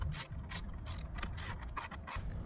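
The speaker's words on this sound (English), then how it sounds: "So now we're going to go ahead and tighten this terminal back." Ratchet wrench tightening a battery terminal on a GMC Hummer EV, rapid close clicking strokes in a quick uneven rhythm, alone without talk.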